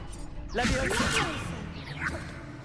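Levioso levitation spell cast in Hogwarts Legacy, a rising magical whoosh and shimmering swirl with a thud and rattle mixed in, swelling then fading, followed by a smaller second swish near the end; close and fairly loud.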